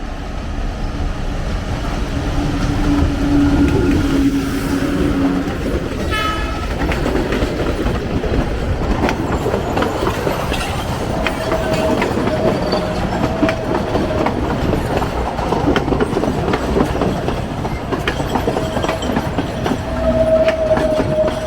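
A train rumbles past near Machu Picchu on the line from Ollantaytambo to Aguas Calientes, a loud, sustained roll of wheels and clattering cars with brief horn tones, close by.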